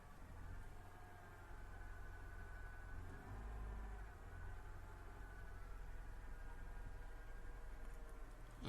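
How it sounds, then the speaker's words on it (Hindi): A Honda City engine idles just after a cold start, a faint, steady low hum with no other sounds over it. "शायद आप सुन सकते हैं गाड़ी की आवाज़।"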